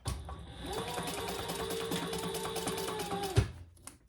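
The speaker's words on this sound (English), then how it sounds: "And then we're going to sew down the side, and I am going to do a 1/4 inch seam." A sewing machine runs along the side seam of a leather pouch, a quiet steady mechanical whir that stops abruptly with a soft clunk near the end.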